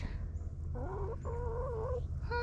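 Hens cluck inside a shed on an Alaska homestead, a few close, wavering calls in short bursts over a low steady background hum.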